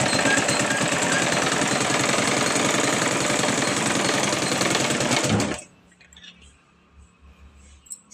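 Sewing machine stitching folded fabric, a loud, fast, steady mechanical chatter close by that stops abruptly near the end, leaving quiet handling sounds.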